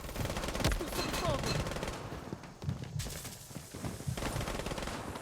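Gunfire in the Blood Strike shooter game: loud bursts of automatic fire with sharp single shots mixed in, one heavy volley early and more crackling bursts later, with faint voices and footsteps in the background.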